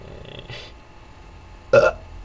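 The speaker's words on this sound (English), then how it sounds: "Did not mean to burp." A single burp, short and close, following a couple of faint gurgly throat noises in an otherwise quiet room.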